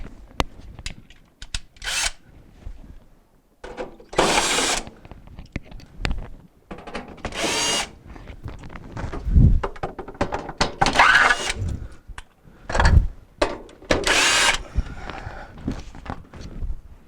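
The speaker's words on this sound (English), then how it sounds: "we're going to use our 1/4 inch again to remove the 4 screws on the back panel" A quarter-inch power driver backs screws out of the back panel of a Maytag refrigerator, giving several short, fairly quiet whirring bursts spread apart, with faint handling clatter between them.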